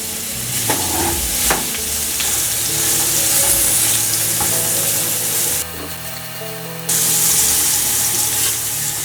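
Sweet pepper stir-fries in olive oil over high heat for a Goan balchao pickle: a loud, continuous sizzle with stirring scrapes that briefly quiets and then surges back, heard close up and alone.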